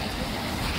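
Sea waves on the Konkan seashore wash in as a dense, steady roar of surf mixed with wind buffeting, close and loud throughout.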